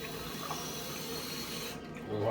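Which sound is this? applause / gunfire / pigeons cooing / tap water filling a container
tap water filling a container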